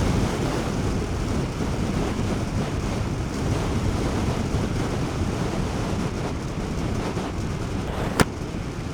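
Steady, loud wind buffeting the microphone while riding an Easyride 150 FI 2024 motorcycle on a mountain road toward Dingalan, Aurora, a continuous broadband roar with one sharp knock near the end.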